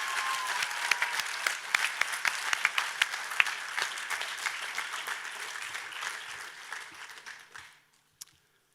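Audience applause at a 2020 high school graduation ceremony, a dense round of clapping with sharp individual claps that fades out near the end.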